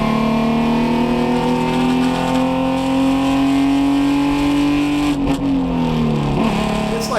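An Alfa Romeo GTV6 vintage racer with a Busso V6 engine, about 159 horsepower, runs with a loud, sustained tonal exhaust note up close, pitch rising slightly, then dipping briefly near the end.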